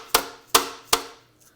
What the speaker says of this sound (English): I'm just going to hit it with the rubber hammer and just break it loose.